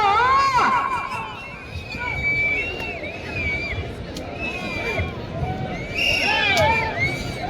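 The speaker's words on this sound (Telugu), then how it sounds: "జనాల్లో గట్టిగా విధుల్లో కేకలు, కేరింతలు." A large crowd at a festival bullock-pulling contest shouts and cheers continuously, individual voices rising and falling in a loud, excited roar.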